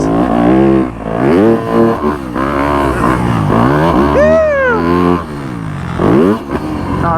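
A 65cc dirt bike ridden by a kid on a wet, greasy supercross track, its engine loud and close, revving up and down in repeated rising and falling surges with brief dips between throttle bursts.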